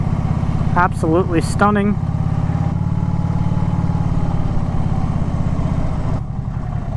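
A Harley-Davidson Street Glide motorcycle's engine rumbles steadily and close while being ridden on a scenic road, a continuous low drone with wind noise, under someone talking briefly at the start.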